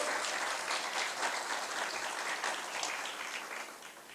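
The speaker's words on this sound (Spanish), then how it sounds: "Le damos un fuerte aplauso." A church congregation at a Spanish-language service gives a loud round of applause, thick continuous clapping that stays strong throughout and eases slightly at the end.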